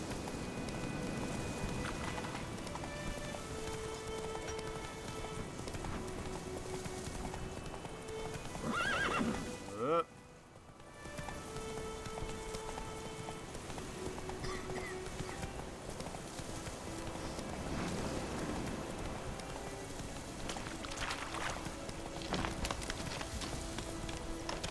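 Roach, Geralt's horse in The Witcher 3, gallops with steady clip-clop hooves and occasional whinnies over ambient game sound, a brief dip in the middle, and a voice speaking now and then.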